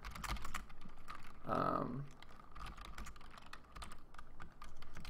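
Someone types on a computer keyboard while building Unity engine tools for a dungeon crawler game, a steady fast clatter of keys throughout, close by, with a person speaking over part of it.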